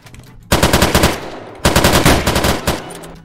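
Mosin rifle fire in the video game Unturnov, rendered as two rapid bursts of sharp, loud shots in quick succession, each volley about a second long with a short pause between them.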